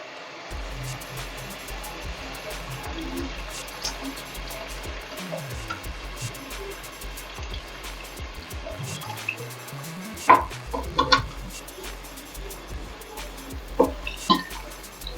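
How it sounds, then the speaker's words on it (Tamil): Tamarind water is poured into a fish curry cooking in a pan, making soft splashing and sizzling with a few light clinks of utensils, close by and fairly quiet. "இந்த புளியை கரைச்சி ஊற்றிக்கலாம்."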